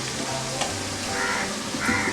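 Onions frying in a pan for biryani, a brief, close, steady sizzle with faint background noise.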